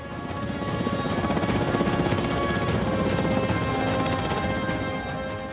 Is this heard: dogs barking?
no